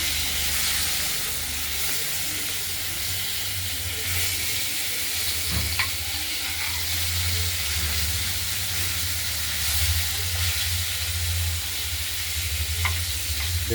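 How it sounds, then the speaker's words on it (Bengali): Pieces of catla fish fry in hot oil with a loud, close, unbroken sizzle and hiss that holds steady throughout, with no one speaking. "মাছগুলো ভাজা হচ্ছে, যদিও দেখতেই পাচ্ছেন"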